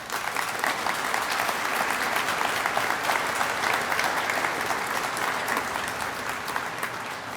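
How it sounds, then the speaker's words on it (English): An audience applauds at the dedication of a statue of Governor Judy Martz. The clapping is dense and steady, comes from a large crowd and holds at an even level throughout. "let's give them a round of applause"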